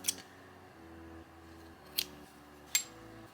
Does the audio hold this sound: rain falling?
no